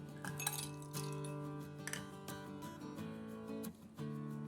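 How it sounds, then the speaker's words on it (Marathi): Ice cubes clinking into a glass for homemade watermelon juice, several sharp bright clinks at the start and middle, then a quieter ringing, faint and alone in a home kitchen. "ग्लासमध्ये आपल्याला बर्फाचे खडे टाकायचे"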